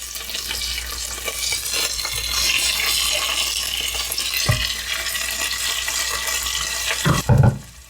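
About 1.2 litres of water poured into a heavy-bottomed pot over seared pork belly for Japanese buta no kakuni. It makes a steady rushing splash with a faint sizzle, close and continuous, ending in a few clunks.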